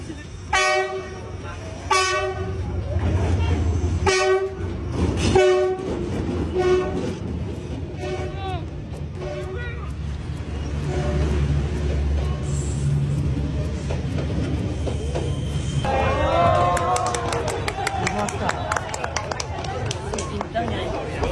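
A train passes right beside a café terrace built against the rails in Vietnam, first sounding several sharp horn blasts, then a heavy rolling rumble close by, with people talking over it.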